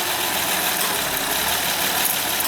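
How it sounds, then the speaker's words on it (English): Honda Pilot engine idling with an intermittent A/C fault, a steady close mechanical hum and rumble; the compressor clutch cycling is not distinct within the drone. "So you can hear it kicking that compressor on and off."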